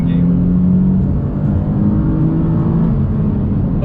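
A 2020 Nissan 370Z with an automatic gearbox accelerates under throttle: a loud, steady low engine drone heard from inside the cabin, building only slightly as the transmission waits to kick down.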